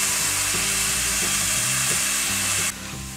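Onion browning in a frying pan with salt, a loud steady sizzle with occasional stirring scrapes, dropping in level near the end.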